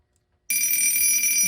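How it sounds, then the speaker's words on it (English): A 1950 Seth Thomas Poise alarm clock's mechanical bell starts abruptly after silence and rings on in a continuous, loud, close metallic clatter with no voices. "Okay, it's about 7 o'clock, it's ringing."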